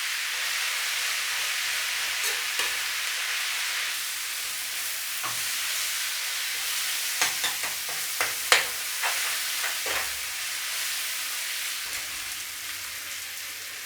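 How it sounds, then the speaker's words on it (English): Onions with a little sugar fry in a pan for chicken dopiaza, giving a loud, steady, bright sizzle throughout, with a cluster of quick stirring scrapes near the middle, close and with no talk. "If you don't want to put sugar in, don't put it in, just fry them down."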